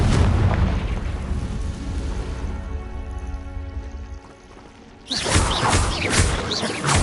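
Repeated fiery spell blasts in a Harry Potter fantasy video game: a loud, sustained booming rumble that fades, then a sharp, bright explosive burst near the end, with no talk over it.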